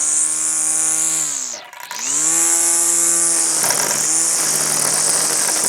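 A Husqvarna 320iL cordless string trimmer cuts through thick grass in standard mode, giving a loud, steady high-pitched whine that dips briefly as the motor slows, then spins back up and runs on.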